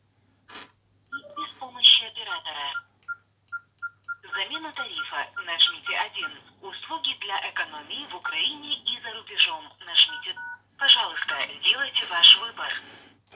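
A Nokia mobile phone beeps with dialing tones and electronic signals, and a voice carries on through the phone line in short bursts.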